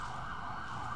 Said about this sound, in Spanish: ¿de mí depende que haya pasado una ambulancia aquí?